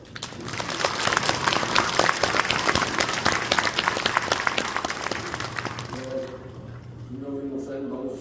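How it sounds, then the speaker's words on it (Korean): Audience applauds for the pastor's wife at a church thanksgiving service, steady dense clapping for about six seconds that fades as a voice begins speaking over the tail. "사모님께 큰 박수 한번."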